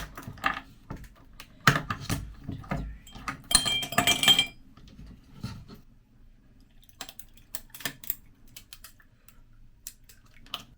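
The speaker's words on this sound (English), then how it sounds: "Ice cubes in there." Ice cubes dropped into a glass during drink preparation, sharp bright clinks and rattles in quick clusters early on, then sparser light taps and clicks, close and fairly loud against a quiet background.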